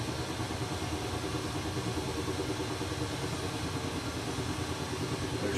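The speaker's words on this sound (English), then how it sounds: "And this engine should fire." A jet aircraft engine in a flight simulator at Nellis Air Force Base runs as a steady, loud, even roar with no pauses and no voices.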